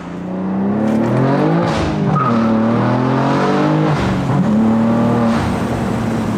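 A BMW G87 M2 fitted with a Fi full exhaust revs loudly and close by, its engine note rising and falling through several sustained pulls with no voices.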